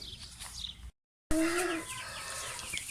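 Soft clucking and peeping from chicks close by, with a brief silent gap early on, then steady chirpy calls continuing.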